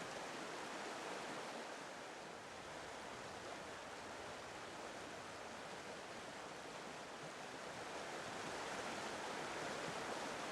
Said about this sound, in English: high river waters rush past the first flowers to appear